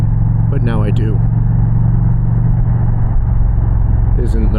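An Indian Challenger motorcycle fitted with a Powerband Audio Hawks Nest exhaust rumbles at a steady low idle up close, with a voice talking over it at the start and end.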